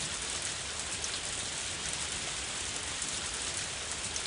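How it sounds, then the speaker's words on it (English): Rain in the video game Harvest Moon: A Wonderful Life falls as a constant, even hiss of dense drops on a surface, steady throughout with no talking. "Especially when it's raining."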